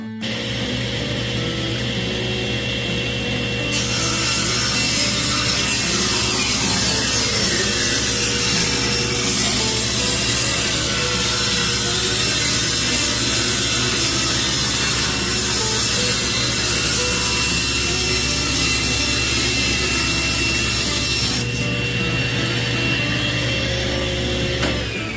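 A saw runs continuously through a reclaimed redwood board while resawing it, a loud, steady grinding drone with a shifting rasp of the blade in the wood that persists for the whole stretch with no talking.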